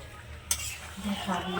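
A spoon clanks once against a pan of simmering meat curry, then scrapes and stirs through the thick sauce for a moment, close and brief.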